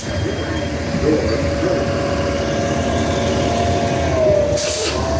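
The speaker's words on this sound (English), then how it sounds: "He gonna park right in front of my camera." A car with fake Virginia tags idles and pulls up close, parking right in front of the camera, its steady low engine rumble continuous throughout with a brief hiss near the end.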